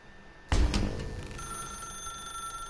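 A telephone rings in The Stanley Parable, one sharp bell ring that starts abruptly and rings on with a lingering electronic tone in a quiet room.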